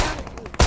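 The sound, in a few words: gunfire in the video game PUBG Mobile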